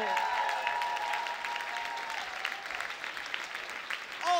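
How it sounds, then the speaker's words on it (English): Audience applause and cheering at a comedy club show, strong at first and thinning out, with a held tone under the clapping early on and voices near the end. "I want you to give a big applause for another first timer"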